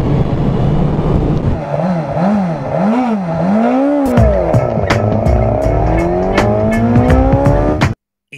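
Suzuki GSX 1000 S 2021 naked streetfighter engine accelerating hard, loud rising revs with sweeping pitch climbs through the gears, ending abruptly in silence.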